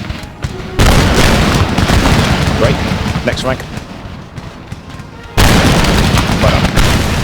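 Ranks of line infantry fire massed musket volleys in Empire: Total War, the Darthmod version with France: two loud, broadband booming salvos, one at the start and another about two-thirds through, with someone speaking briefly between them.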